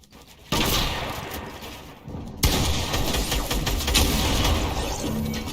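Heavy gunshots in the Fortnite video game, a sustained loud barrage of rapid fire that breaks off briefly and then resumes even louder and stays dense.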